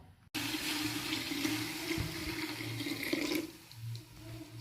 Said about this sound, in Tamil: நான் இன்னைக்கு இதுக்கு தேவையான அளவு தண்ணி ஊற்றிக்கிறேன்